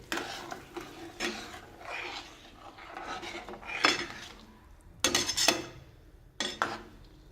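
Wal masoor pulao being stirred in a metal pot, with a spoon scraping and clinking against the sides in irregular bursts, some strokes sharper and louder, close by with no talking.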